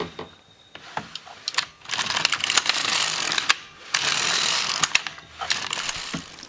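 LK150 knitting machine carriage pushed back and forth knitting plain rows, bursts of clattering, ratcheting mechanical noise separated by brief pauses, close and fairly loud.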